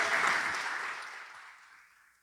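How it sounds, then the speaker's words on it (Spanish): Church congregation applause, a dense wash of clapping that starts strong and fades steadily away over about two seconds, no talk on top. "Dele un aplauso al Señor"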